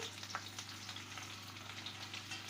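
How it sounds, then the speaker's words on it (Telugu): Cumin seeds and green chilies frying in a pan with ginger while cooking sabudana khichdi, giving a steady, close sizzle and crackle with small pops throughout, no talking. "అలాగే వన్ స్పూన్ జీలకర్ర దాంతోపాటుగా కాస్త పచ్చిమిర్చి ఇవి బాగా వేగాలండి"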